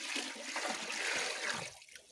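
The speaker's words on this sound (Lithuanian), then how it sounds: "supilam vandenį." Water is poured in a farm shed, a close rushing, splashing flow that runs steadily for about a second and a half before tapering off to a faint trickle.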